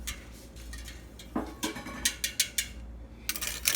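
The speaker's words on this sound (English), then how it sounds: "I get it stirring. I put the rennet in. Stir briefly because you don't want to stir too much." A spoon clinks and scrapes against a metal pot while rennet is stirred into warm milk for mozzarella, giving a quick run of light taps and clicks, close and with no talk.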